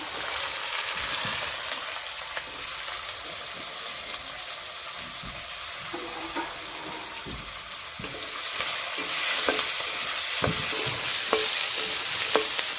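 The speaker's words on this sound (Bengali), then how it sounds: "লাল লাল করে ভেজে নেব" Potatoes, chopped onion and split green chilies frying and being stirred in an oil-tempered pan, a steady close sizzle with scraping stir strokes that grow busier toward the end.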